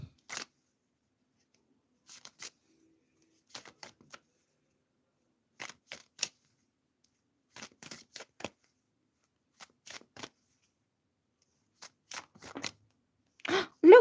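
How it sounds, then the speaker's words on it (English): Tarot cards being shuffled over and over in short crisp bursts, each a quick riffle or flutter of a fraction of a second separated by silent gaps, close and fairly loud, with no talking. "Look, I shuffle the cards again and again"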